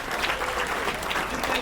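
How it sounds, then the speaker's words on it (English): Audience applause at a charity show, a steady patter of clapping hands from a live crowd, moderately loud and continuous throughout the short stretch without speech. "A round of applause for that."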